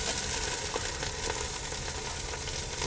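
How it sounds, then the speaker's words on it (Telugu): Raw banana pieces frying in hot oil, a continuous dense sizzle heard up close for a few seconds with no voices over it. "అరటికాయ వేస్తున్న నూనెలో మంచిగా గోలించుకోవాలి"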